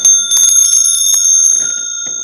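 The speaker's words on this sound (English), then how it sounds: "We have some bells." A set of small decorative bells rings out clearly and loudly, bright sustained tones with several overlapping strikes that linger and fade slowly.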